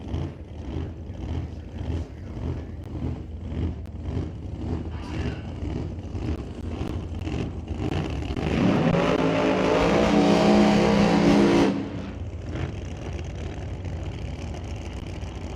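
A drag race car roars through a high-speed burnout at a Smoke Fire and Thunder eliminations meet, its engine droning loud and rough. Midway it swells into a harsh, sustained howl for a few seconds before dropping back to a lower rumble.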